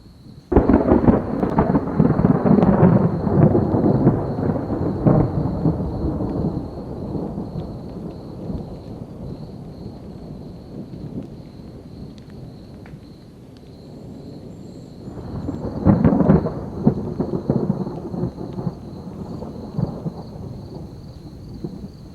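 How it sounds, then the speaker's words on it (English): Thunder from an active storm rolls over a remote forest camp, with loud, long rumbles at first, a quieter stretch, and then another strong roll building near the end. "there's storms all around us. But this one that's going away from us, it is especially active."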